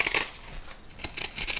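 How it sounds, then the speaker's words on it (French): Pinking shears trimming excess fabric beside a seam on a small sewn smartphone shoulder pouch, giving close crisp metallic snips in two short bursts separated by a brief pause. "maintenant je vais prendre mes ciseaux cranteurs et je vais enlever l'excédent de tissu"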